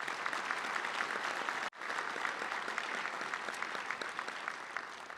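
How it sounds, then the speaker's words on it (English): Steady applause from a luncheon audience at a Little Rock touchdown club gathering, applauding the event's sponsors; dense clapping fills the room, cuts off briefly, then resumes just as full and continuous. "If you'll give them a round of applause real quick"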